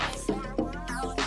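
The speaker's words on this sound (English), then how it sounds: "We just use this clock for the build-up because I kind of really like to use clocks for percussion" A warped clock-tick sample used as percussion in an electronic music build-up: evenly spaced soft clicks with a smeared, tonal, processed quality repeating about every third of a second over a steady low hum.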